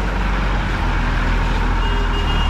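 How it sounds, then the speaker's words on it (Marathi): A large truck passes on a road in a Konkan village during heavy rain, a loud, steady low rumble with road noise that holds at close range for the whole moment. "परत मोठी गाडी येते रे."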